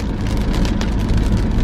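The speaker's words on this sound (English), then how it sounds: "the rain's probably drowning me out" Steady heavy rain drumming on a car, a dense close wash of droplets with a low vehicle rumble beneath and no talk.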